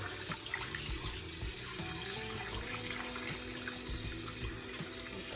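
Fresh tap water runs steadily from a kitchen faucet into a sink while raw tilapia is rinsed, a continuous close splashing stream with no talk.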